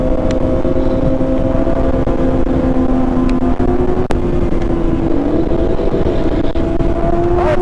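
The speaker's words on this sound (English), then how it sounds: "Let's go race that Hellcat." A Dodge Hellcat car races by with a loud, steady engine drone throughout, its pitch wavering and rising slightly near the end, close and continuous with no voices over it.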